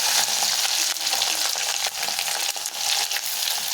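Crushed garlic cloves with cumin seeds sizzling steadily in hot oil in a pan for a vegetable kootu, a dense, continuous bright crackle with occasional stirring scrapes, close and fairly loud, no voices.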